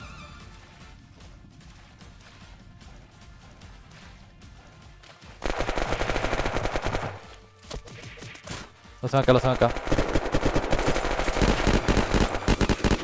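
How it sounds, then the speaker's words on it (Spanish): Rapid bursts of automatic gunfire in the video game Unturned erupt loudly after a quieter stretch, with a brief pause between volleys and a voice talking underneath. "Son tiros, son tiros."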